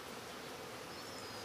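Honey bees buzzing around a backyard beehive on a quarter-acre homestead, a faint, continuous hum of many insects with a brief higher whine of one bee passing close, no voices.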